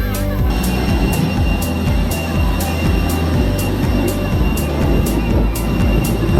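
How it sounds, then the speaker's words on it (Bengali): Airplane engines run at an airport, a loud, constant roaring drone with a steady whine and faint rhythmic pulsing, filling the whole moment without any talk. "এখানে অনেক আওয়াজ হইতেছে, ইঞ্জিন চালু আছে প্লেনের"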